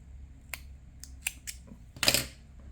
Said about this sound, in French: On vient couper notre fil.